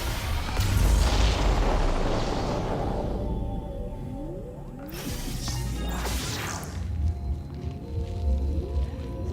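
A bomb goes off in a video game, a heavy boom and crash rolling loud at the start and fading, with further thuds and whooshing effects following through the rest of the stretch.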